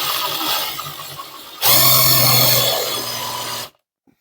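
A drill bit bores a starter hole in bathroom tile: a rough grinding whine that jumps louder halfway through, holds for about two seconds, then stops abruptly into silence.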